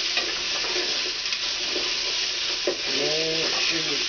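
Cabbage soup with onion soup mix being stirred in a pot, a steady bubbling sizzle with utensil scrapes and a brief clink near the end, no talk.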